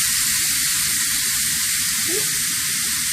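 A pork chop seared in a hot pan for Tuscan pork chops, giving a loud, dense, continuous hissing sizzle that holds steady throughout.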